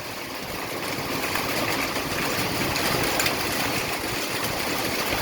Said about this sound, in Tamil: இப்போ காற்று வேறையா அடிக்குது.